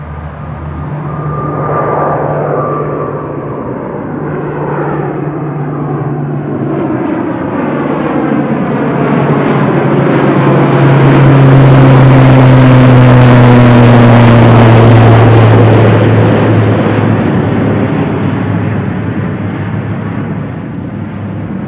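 A fixed-wing airplane passes overhead at Newcastle International Airport, its loud engine roar building to a peak as it flies over and then slowly fading as it moves away, with no talking.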